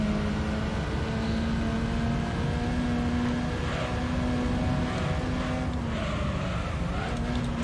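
Mazda RX-7 race car engines in Gran Turismo 3, a loud sustained high-revving drone with steady tonal whine, rising slightly as cars pass, no talk over it.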